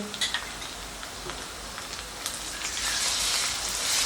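Ginger garlic paste sizzling with onions in a hot pan, a soft steady crackle with scattered pops that swells slightly toward the end.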